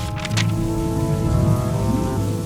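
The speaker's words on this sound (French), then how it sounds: "Et cette fois-ci, il y avait une tempête." A thunderstorm with steady, heavy rain, used as a sound effect in an animated storybook of Jack and the Beanstalk; a constant dense rain wash with low rumbling thunder throughout, loud and close, no voices.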